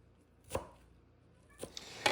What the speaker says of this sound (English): I find the easiest way to chop parsley and other leafy herbs is to gather them into a bundle like this